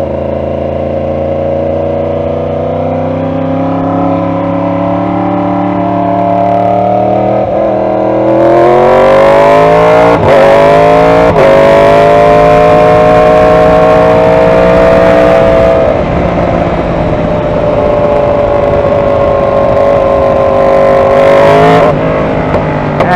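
Yamaha R1 sport motorcycle ridden along Westwaters Avenue in Tampa, Florida, its engine droning steadily, then rising in pitch as it accelerates hard, loud and close with brief gear-shift dips.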